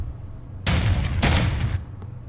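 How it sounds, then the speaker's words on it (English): Gunfire cracks in two dense bursts of rapid shots, loud and close, over a low steady background hum. "Those are some gunshots."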